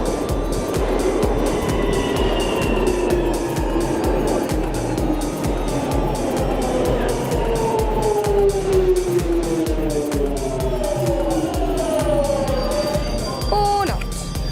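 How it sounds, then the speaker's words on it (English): A London Underground train pulls into a station with a falling whine of motors and brakes, rumbling and clattering steadily as it slows, loud and close, with a voice talking over it. "You can see that signature breeze that you know the train is arriving."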